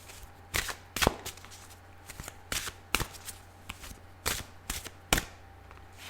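Cards riffle-shuffled in a series of short, crisp bursts, about eight in all, each a quick flutter followed by a snap, close up with no talking.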